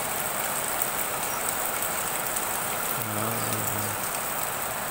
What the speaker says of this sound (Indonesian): Turunnya hujan.